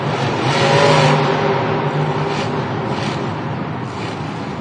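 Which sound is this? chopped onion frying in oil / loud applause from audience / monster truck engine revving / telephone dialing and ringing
monster truck engine revving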